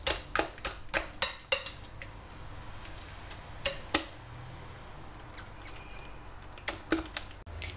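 A spoon stirs a slightly runny batter of eggs and sweetener in a bowl, giving a run of sharp, close clicks and taps against the bowl, clustered at the start and end with quieter scraping between.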